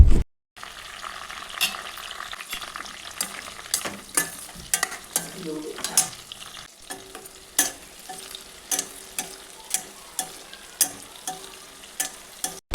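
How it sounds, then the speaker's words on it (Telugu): Red chilli pieces fry in peanut oil in a kadai with a soft, steady sizzle. A spatula stirs and scrapes against the pan again and again in a fairly regular rhythm, close by and with no talking. "కడాయి పెట్టి అందులో 100 గ్రాముల వేరుశనగ నూనె వేసి నూనె కాగాక ముందుగా కట్ చేసి పెట్టుకున్న పండుమిర్చి ముక్కలను వేసి దోరగా పచ్చివాసన పోయే వరకు వేయించుకోవాలి"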